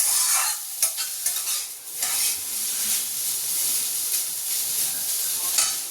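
Spices sautéed and stirred in a pan for a Bengali wedding-style menu of luchi, chholar dal and fried eggplant, giving a steady close sizzle and hiss with repeated scraping stirs, no talking.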